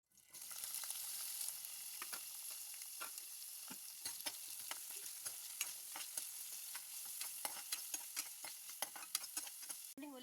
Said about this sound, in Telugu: ఇప్పుడు ఆనియన్ గ్రీన్ చిల్లీ కరివేపాకు వేసుకొని ఫ్రై చేసుకుందామండి